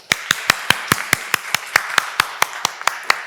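Evenly spaced, crisp claps from an audience welcoming a speaker at an agency diversity event, about fifteen sharp beats in a steady rhythm, moderately close, with no talk over them.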